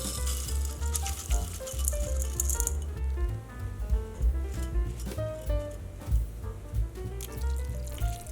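Raw rice is poured into a clay pot, giving a loose, continuous rattling patter of grains that shifts in density over several seconds. The sound is moderately close and has no talking over it.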